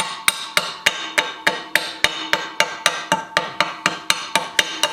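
Repeated hammer blows knock chunks of rust off an old pipe vise found in the woods, about three sharp metallic strikes per second in a steady rhythm, close and loud with no talking.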